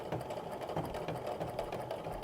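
A domestic sewing machine stitches a quilt with batting along a ruler while outlining half square triangles, giving a steady, continuous whirring hum close by with no talking.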